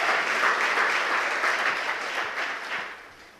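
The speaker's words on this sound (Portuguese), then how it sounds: "Você pode aplaudir o Senhor?" Church congregation applauding during a sermon, a full wash of many hands clapping together that starts strong and slowly tapers in loudness over a few seconds.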